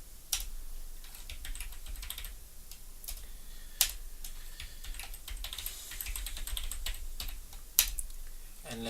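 Rapid clicky keystrokes come from a computer keyboard as commands are typed into a terminal, quiet and close with a few sharper louder key hits such as spacebar or enter presses.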